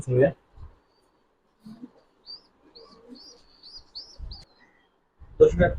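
Pigeons from a collection of high-flyer and racing pigeons coo and chirp softly in short bursts, with brief voices and handling noises at the start and end.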